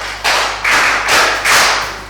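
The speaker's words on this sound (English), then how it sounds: "It's a very good question, clap for him." Students applaud a classmate in a school anti-drug session, four short bursts of clapping in quick succession, each swelling and fading, fairly close and loud over a steady low hum.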